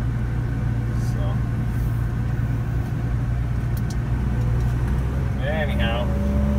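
A vehicle engine drones steadily while driving along a rural road allowance beside hay fields, with a constant low rumble and road noise, close and continuous throughout.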